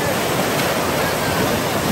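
Large waves break where a river meets the ocean, giving a constant, loud wash of rushing water and surf with no clear pauses.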